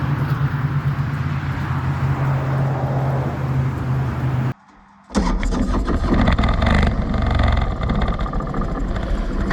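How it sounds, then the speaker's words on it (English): A motorcycle fitted with an Arlen Ness Stage 1 Air Sucker intake runs with a loud, steady engine drone, cuts to a brief near-silence, then comes back with a rough restart and revving. "On the initial startups, the engine seemed to be a little overwhelmed by the air intake"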